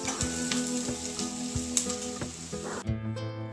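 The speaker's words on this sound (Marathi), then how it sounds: "ते सर्व एकत्र परतून घ्यायचं छान असं" Onion and garlic paste sizzle steadily in hot oil in a pan for a masoor curry, a close frying hiss with occasional stirring clicks, under a faint tonal background.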